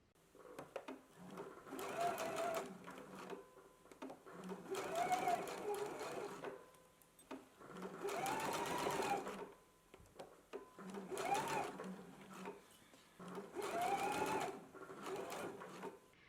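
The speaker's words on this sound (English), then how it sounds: "now we can go ahead and stitch it at a 5/8 of an inch seam allowance" A sewing machine stitches a 5/8 inch seam allowance on a garment sewn from a McCall's M8384/8385 pattern, running in several steady bursts of rapid whirring separated by short pauses, close by, with a quiet voice in the gaps.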